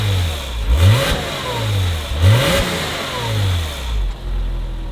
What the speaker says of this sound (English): you want to get a few revs?